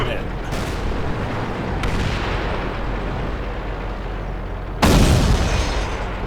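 Tank cannon shots and explosions from the World of Tanks video game arrive as several sharp booms over a dense, rumbling battle din, with one especially loud blast near the end.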